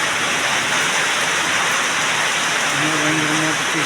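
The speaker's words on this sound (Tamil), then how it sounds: "ஆனால் மழை ஸ்டார்ட் ஆகிடுச்சு." Heavy rain pours down outdoors during a bicycle ride, a loud, dense, unbroken hiss that fills the scene from start to finish.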